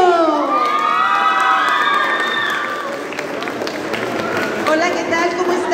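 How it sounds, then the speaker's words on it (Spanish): A crowd at a Tim Burton fan expo in Mexico welcomes voice actress Cynthia Alfonzo with loud cheering, high excited shouts and whoops, and scattered clapping, the noise dipping briefly before swelling again. "démosle un fuerte aplauso a Cintia Alfonso"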